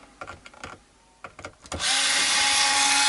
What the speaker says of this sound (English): fill the holes, and then we'll just re-drill them